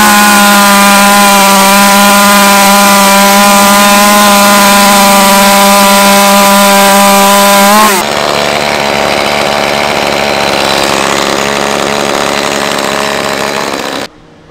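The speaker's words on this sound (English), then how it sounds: "It's the lightest chainsaw on the market." A small, lightweight ECHO chainsaw engine runs loud and close, revving high for about eight seconds, then dropping to a rougher, lower idle before cutting off.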